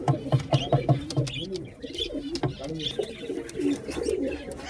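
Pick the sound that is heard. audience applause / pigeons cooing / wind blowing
pigeons cooing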